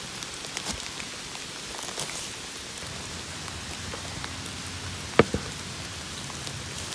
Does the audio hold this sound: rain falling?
yes